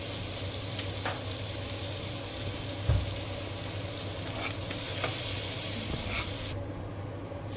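Cumin and garlic frying in olive oil in a pan while being stirred: a steady, soft sizzle with occasional scraping clinks from the spoon, no talking.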